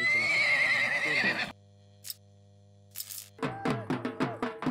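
A horse gives a loud, close, quavering neigh that cuts off abruptly, followed after a pause by a string of sharp, rhythmic clacks.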